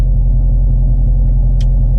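A car engine idles steadily with a low, even rumble, close and loud, a brief click heard near the end; no one speaks.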